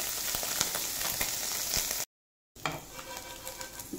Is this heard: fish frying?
yes